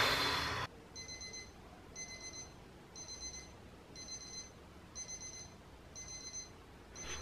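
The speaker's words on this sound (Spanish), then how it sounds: "cuando te tienes que levantar, que suena tu alarma para irte a la escuela o a trabajar" A morning alarm clock rings in repeated short electronic bursts, roughly once per second, each a bright multi-tone beep pattern, fairly close, after a brief loud rustle at the start, with no talking.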